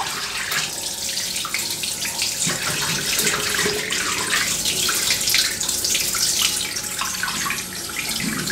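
Hot water runs steadily from a bathroom tap into a sink during a wet shave, making a loud, close, continuous splashing rush that holds for the whole stretch with no talking.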